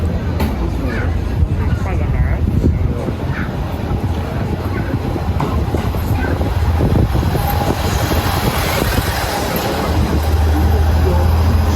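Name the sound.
train arriving at a Japanese station platform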